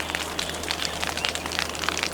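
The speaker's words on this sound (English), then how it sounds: "I can hear the rain falling on the leaves, and yet it is completely dry." Rain patters on leaves outdoors during an expedition in Zambia and Malawi, a dense, steady hiss of many close drops with no voices.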